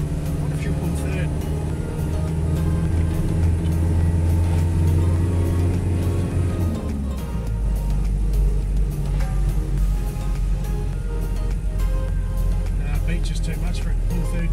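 A Toyota Hilux engine labours in third gear on beach sand, a loud continuous low drone that shifts pitch partway through as the load changes, with people talking over it.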